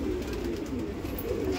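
Low, rolling coos from Saharanpuri pigeons repeat in soft pulses over a constant noisy background, close by and without speech.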